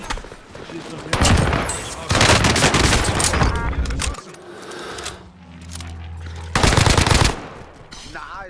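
Machine gun fire in Call of Duty: Modern Warfare, loud sustained automatic bursts broken by brief pauses, over rumbling battle sounds and game audio.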